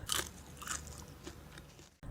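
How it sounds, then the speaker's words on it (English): Crisp, close crunching bursts in the dark at a night camp-out, several bites in quick succession, then a brief silence before the crunching resumes. "Beans, I hear crunching,"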